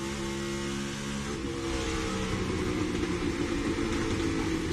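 A NASCAR Cup Series race car engine during qualifying at the Iowa Corn 350 roars loudly and steadily with a continuous droning tone that swells slightly partway through, and no voices are heard.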